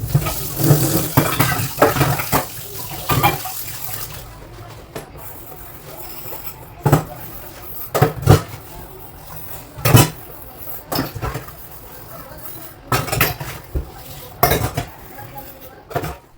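Dishes and utensils being washed in a kitchen sink: steel plates and cutlery clink and clatter in irregular bursts over running water, close by, with a voice faintly in the background.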